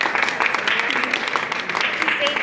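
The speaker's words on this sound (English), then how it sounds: "Can we give first a round of applause for one of God's angels, Francisco?" Applause from a gathered audience, a steady burst of many hands clapping, close and fairly loud, with voices mixed in underneath.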